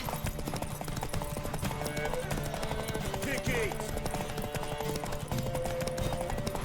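Galloping hooves pound rapidly in the video game The Witcher 3: Wild Hunt, with a whinny partway through and a person speaking briefly over the action.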